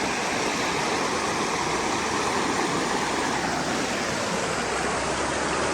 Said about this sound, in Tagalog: Medyo malakas nga yung agos ngayon.